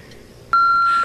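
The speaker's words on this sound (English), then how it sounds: "Please leave a message at the beep." A single steady electronic answering machine beep rings out alone after a moment of faint room tone, loud and close, holding for about half a second before cutting off.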